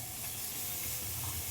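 Marinated chicken mixed with ginger-garlic paste hits a hot pan, giving a steady, close broadband sizzle and hiss that holds evenly throughout, with no talking.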